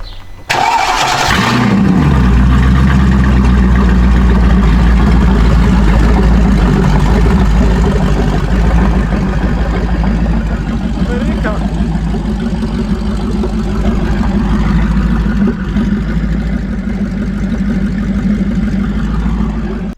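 A Mercedes S500 converted for drifting with a manual gearbox cranks and fires up loudly, then settles into a deep, steady idle with a few mild revs over the following seconds, close by and with no voices.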